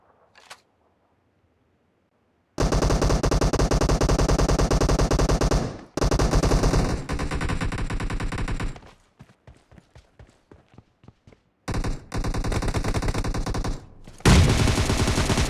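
Rapid automatic gunfire in the video game PUBG, loud sustained bursts of shots broken by brief silences and a quieter stretch, very close and with no talk.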